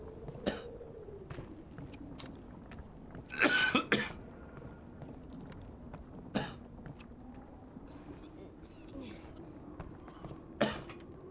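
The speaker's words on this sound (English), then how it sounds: "Oh, I'm coughing." A person coughs in a few sharp, close bursts, one loud cluster of coughs early and scattered single coughs later, while talk and game sound run quietly underneath.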